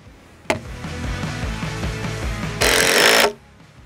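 A Makita impact driver rattles with rapid hammering bursts as it drives a screw, rising into a harsher, louder whir near the end before stopping.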